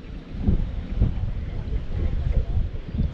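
Outboard motor of a small fishing boat running on the water during a predator-fishing season opening, a low steady drone mixed with wind buffeting the microphone.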